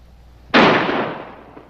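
A single loud gunshot rings out during a police standoff, an abrupt sharp crack followed by a long decaying echo, with no voices.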